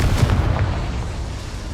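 Confringo spell explosion in the Hogwarts Legacy video game: a short, loud, deep blast with a low rumbling burst that fades quickly, heard alone with no talk.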